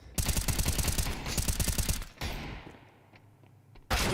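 Rapid automatic gunfire in a Counter-Strike match at an esports tournament, a dense burst of shots for about two seconds, then a lingering tail and a fresh loud crack at the end.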